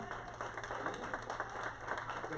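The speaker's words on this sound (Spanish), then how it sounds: "Démosle un fuerte aplauso." Church congregation applauding visiting women from the Dominican Republic, a steady wash of clapping heard faintly and at a distance for a couple of seconds.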